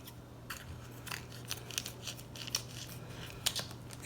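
Scissors cut open a plastic bag holding a pork loin, giving a series of faint, sharp snips and plastic crinkles over a low steady hum. The cuts come at irregular intervals. No talk.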